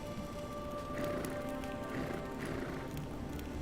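Horse archers gallop in a strategy video game, a dense continuous rumble of many hooves with a steady tonal drone underneath, played as game audio at moderate level.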